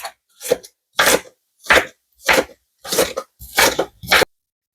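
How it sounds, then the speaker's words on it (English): Knife rocking through a pile of broccoli on a cutting board, seven distinct crunchy chops at a steady rhythm, close and fairly loud with no talking. "Piling them all together and rocking my knife"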